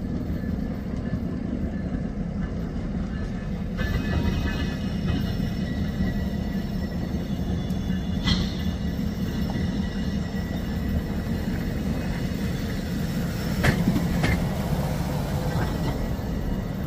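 A BNSF train passes at Santa Fe Junction with a steady, loud low rumble of rolling cars and engine that runs throughout, punctuated by a few brief squeals and clanks.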